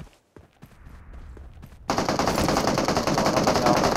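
Automatic gunfire in PUBG Mobile: a few scattered shots and footsteps at first, then a sudden, loud, sustained burst of rapid machine-gun fire that continues to the end.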